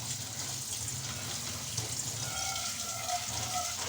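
Tap water runs steadily into a sink while dishes are washed, a soft continuous hiss and splash with faint clinks of utensils near the end, quiet and close, alone.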